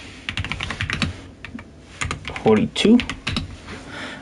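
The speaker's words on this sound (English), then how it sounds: "Let me grab my notepad and start typing out stance" Rapid clicking of keys on a computer keyboard, typed in uneven bursts close to the mic, with a voice speaking over part of it.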